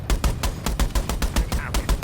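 Rapid gunfire from a shooter video game, a steady rattling burst of about ten close, loud shots at an even rhythm across two seconds, with no talk over it.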